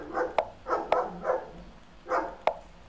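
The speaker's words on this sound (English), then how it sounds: "Yeah, crazy dog." A dog barks in short bursts, several yelps spaced about half a second apart, moderately loud and fairly close, with sharp clicks mixed in and no talking.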